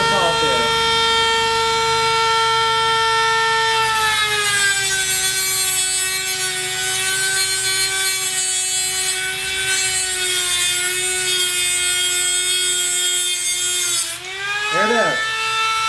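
A jaw harp reed is sawn off with a rasping back-and-forth stroke, close and loud, mixed with a steady droning tonal whine from a lawn mower running in the yard.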